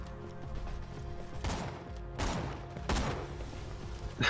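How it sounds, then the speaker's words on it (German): Gunfire in Borderlands 2 aimed at a barrel, heard as three separate bursts of shots spaced about a second apart over a low game background. "Aufs Fass schießen ist witzig."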